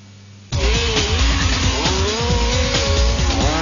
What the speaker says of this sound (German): die hier ferngesteuert über die Rennstrecke jagen